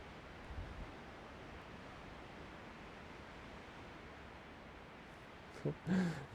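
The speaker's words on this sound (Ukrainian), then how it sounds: "Гойдає вітер дерева." Steady broadband rushing of wind through trees on a mountain trail near Lake Tahoe, constant and moderately loud, with a brief burst of louder rustling near the end.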